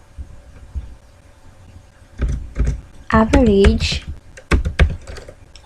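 Keystrokes on a computer keyboard during a spreadsheet tutorial, a few quick clustered taps at moderate loudness, with a voice talking between and over them.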